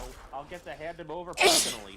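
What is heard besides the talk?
sneeze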